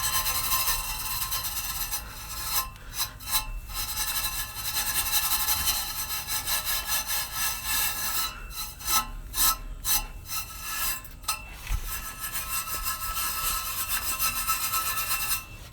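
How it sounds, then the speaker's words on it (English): A metal dish scrubber rubs rust off a car exhaust pipe on a 1994 Astro van, giving a continuous harsh rasping scrape in back-and-forth strokes, close and loud with no talking. "We're gonna clean it up with this. We got the little metal dish scrubber."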